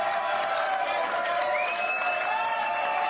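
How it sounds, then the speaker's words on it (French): TV studio audience at a French talk show claps and cheers in a dense continuous burst, with a whistle or whoop rising through the middle. "Merci de m'applaudir."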